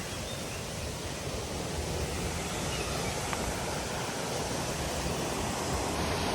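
Waterfall near Gemini Point in Malgund, a steady, dense roar of falling water that holds evenly throughout with no voices.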